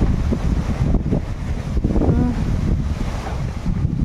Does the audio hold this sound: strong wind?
yes